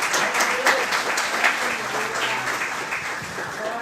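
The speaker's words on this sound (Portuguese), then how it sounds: "Dê uma salva de palmas ao Senhor." A church congregation applauds, a dense sustained patter of many hands clapping together in a reverberant hall, loud and steady over a few seconds with a faint voice beneath.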